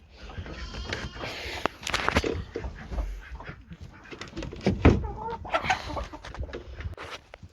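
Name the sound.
chickens clucking in coop at night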